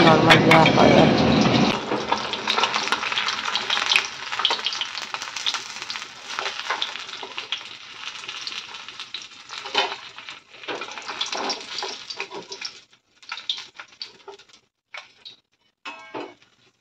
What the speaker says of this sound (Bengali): আর ওদিকে মাছ ভাজা হতে হতে